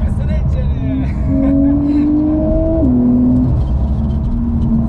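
A 2019 Porsche 911 992 Carrera S with its engine revving loudly nearby, the pitch climbing in a long sweep, dropping briefly and rising again over a deep rumble.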